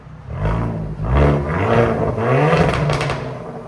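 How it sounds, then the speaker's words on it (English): A Hyundai Kona N with its exhaust valve open revs hard in a loud, sustained burst, the engine note rising and holding steady for several seconds close by, with no talking over it. "Go ahead and open the valve now."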